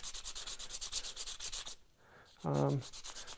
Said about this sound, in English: So just a little bit of sanding, get rid of any marks